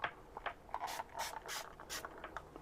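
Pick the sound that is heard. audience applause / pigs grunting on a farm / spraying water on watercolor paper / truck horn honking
spraying water on watercolor paper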